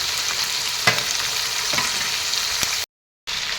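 Chicken pieces fry in a pan for a curry, giving a bright, steady sizzle with a few sharp pops and stirring clicks. The sound cuts out briefly before resuming.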